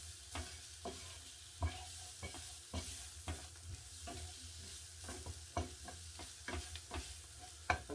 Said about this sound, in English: I'm going to add about a good heaped dessert spoon of tomato paste. Going to mix that in there.